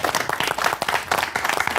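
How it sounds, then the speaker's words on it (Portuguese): A studio audience claps in a dense, lively burst of applause, close and continuous for a couple of seconds at a Portuguese talk show taping. "Isto agora merecia umas palmas."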